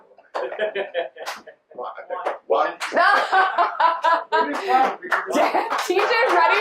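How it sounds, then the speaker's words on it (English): Sharp single hand claps ring out a few times during a youth basketball coaching drill, mixed in with a coach's loud, continuous instructions and some chuckling. "I'm going to clap when I say 1."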